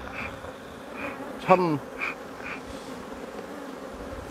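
Honeybees buzz steadily around hives during beekeeping queen-caging work, a close, continuous drone with brief louder passes as single bees fly near, and a short rising tone partway through.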